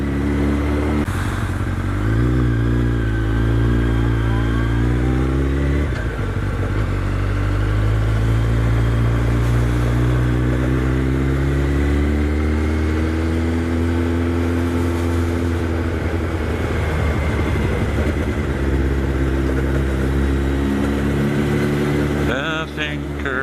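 A Jeep rolls along slowly with its engine droning steadily and loud up close, something loose hanging off and rattling over bumps beneath the constant motor hum.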